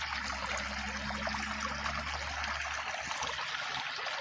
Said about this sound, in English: Alright, so move a little bit here, you guys can see the creek.